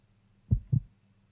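Two deep, muffled heartbeat thumps from Resident Evil Code: Veronica, a close lub-dub pair alone over a low steady hum.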